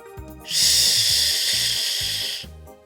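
A voice imitates a snake's hiss with a long, steady, loud breathy "shh" lasting about two seconds, set against a soft background melody for a children's articulation exercise.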